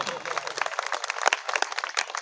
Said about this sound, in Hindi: तालियां कमजोर है आप लोगों की